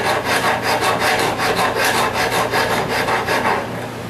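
Rhythmic rasping strokes of a file or sandpaper across wood, loud and close, repeating evenly back and forth before easing off.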